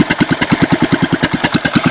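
A rebuilt Kohler K301 engine, bored 0.1 inch oversize with freshly installed rings, runs on a John Deere 210 lawn tractor, a loud, close, rapid even chugging beat with strong regular pulses.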